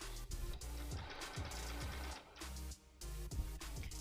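A home sewing machine stitching on webbing for an undergarment runs in short rhythmic bursts with brief pauses between, quiet and close.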